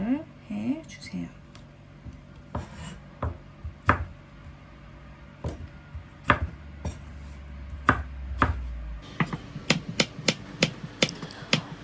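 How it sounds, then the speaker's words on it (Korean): A knife chopping cucumber into bite-size pieces on a cutting board, a run of crisp, close, irregular chops that speed up toward the end, with a brief voice near the start. "이렇게 오이도 먹기 좋은 크기로 썰어서 준비를 해 주세요."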